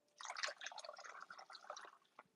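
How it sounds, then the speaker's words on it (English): Hot water pouring from a cheap, flimsy hot water container into another container, a steady bright splashing trickle running close and alone for about two seconds before tapering off. "I'm gonna grab my hot water, pour it in here."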